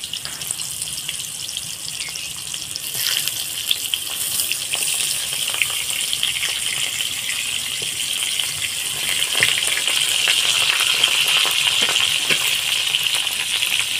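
Pumpkin pieces fry in hot oil with a steady hissing sizzle that grows slightly louder toward the end, dotted with small crackles and pops.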